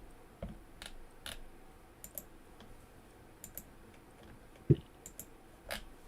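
Sparse, crisp keystrokes tap on a computer keyboard in a quiet room during a competitive match, single clicks spaced irregularly with one sharper clack near the end.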